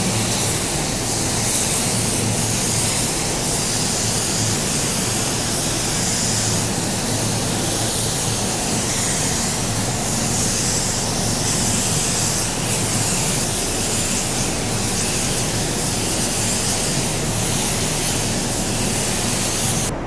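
A paint spray gun lays down a third coat of paint, giving a steady, loud, unbroken hiss of atomized spray that runs the full length with no pauses or voices.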